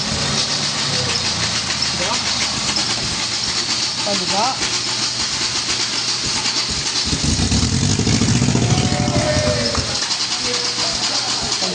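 A car engine on a lift runs steadily at idle with an abnormal, rough, uneven hum and hissing, while a person speaks briefly over it.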